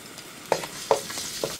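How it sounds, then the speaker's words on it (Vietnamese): Minced onion and garlic sautéing in leftover oil in a pan, with a soft steady sizzle and a few sharp stirring scrapes, close and alone. "Còn lại dầu trong chảo, mình cho hành tỏi băm còn lại vào phi thơm."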